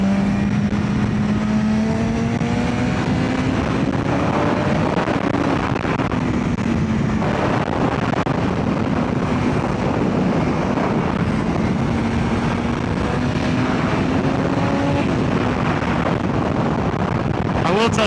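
A 2025 BMW S1000RR superbike engine under riding and cornering, a steady loud drone whose pitch rises and falls with throttle and gear changes, heavy wind rush over it and a rider talking throughout.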